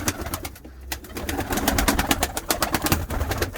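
Pigeons held in a loft-keeper's hands give soft, close cooing and rustling among flutters and handling sounds, with no talking during this moment.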